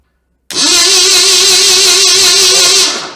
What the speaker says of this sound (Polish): silnik od Forda będzie się kręcił za pomocą swojej siły jaką jest rozrusznik